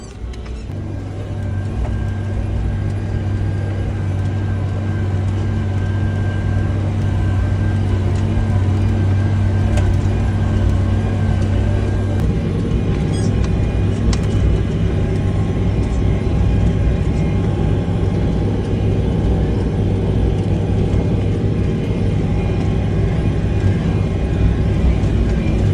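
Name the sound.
tractor pulling Amazone Catros+ 9003 2TX disc harrow in field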